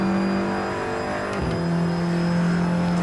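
An Audi TT Cup race car in Assetto Corsa at Montmeló gives a steady engine drone with a brief dip and surge as turbo boost is triggered mid-clip, then settles back to a constant tone.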